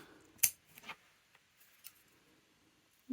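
Scissors trimming the edges of a small doll T-shirt, a handful of quiet, crisp snips with soft fabric rustling in between, close by.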